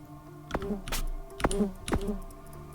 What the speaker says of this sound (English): That must be a real bee noise or something